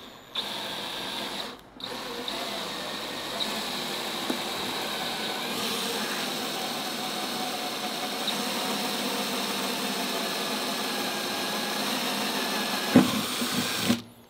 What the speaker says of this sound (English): cutting and drilling into cars I can't afford